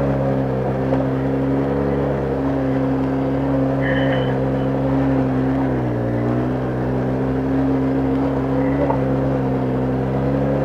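ATV engine on a rough mountain road in Annapolis County, Nova Scotia, a steady close droning hum through the whole stretch with small pitch dips as the ride jostles over bumps.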